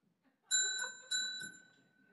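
A bell rung twice at a conference presentation session to signal time remaining, two clear bright chimes with ringing overtones, the second decaying slowly, alone without talk.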